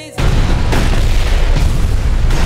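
A loud, deep explosive boom in the anime Your Name bursts in after a brief quiet moment and rumbles on heavily, filling the whole stretch.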